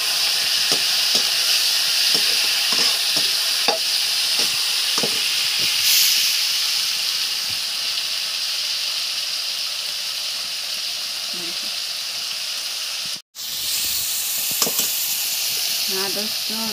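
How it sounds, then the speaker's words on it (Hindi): Tomatoes sizzle loudly in a pan with ginger-garlic paste for a home-style chicken curry, a constant close frying hiss broken by stirring scrapes and clinks, with a voice speaking faintly now and then. "अभी मैं टमाटर डालती हूँ।"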